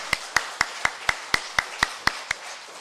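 Hands clap in a steady, even beat, about ten crisp claps in under three seconds, at an Easter Sunday church service.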